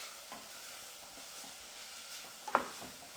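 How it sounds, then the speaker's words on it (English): Ground spices are stirred in a hot pan for a butter bean curry, giving a quiet, steady sizzle with soft scraping and one brief clink near the end. "So we've got the spices in here, stirring this up."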